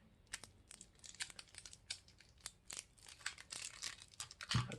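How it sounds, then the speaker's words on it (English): Tape crackles and crinkles in quick irregular bursts as it is wrapped around a skewer on a bar of melt-and-pour soap, close and fairly crisp. "I'm just going to tape it"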